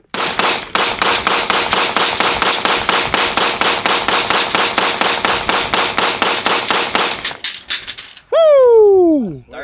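A Taurus pistol with an extended magazine fires about thirty rapid, evenly spaced loud shots at a shooting range, then a short pause and a few scattered clicks and pings as the run ends.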